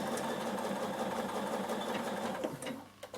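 Orange and blue thread rows are stitched by a sewing machine running steadily and close for nearly the whole span, then slowing and stopping near the end with a few clicks.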